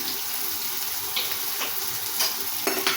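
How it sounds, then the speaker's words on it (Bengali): Green chilies fry in hot oil in a pan for an eggplant and lentil curry, a continuous close sizzle with a few brief louder bursts of stirring and no speech. "একটু লাল লাল করে ভেজে নেব।"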